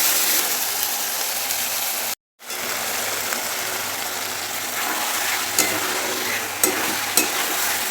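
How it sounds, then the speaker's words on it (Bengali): Potatoes and marinated chicken sizzling together in a pan, stirred steadily with a continuous loud fry and occasional scraping clicks, one brief dropout partway through. "আলু চিকেন সব একসাথে দিয়ে অনেকক্ষণ ধরে করছি আর একটু কষবো"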